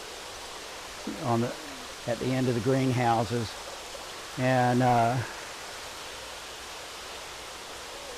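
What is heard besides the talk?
excess water flowing out of a tank system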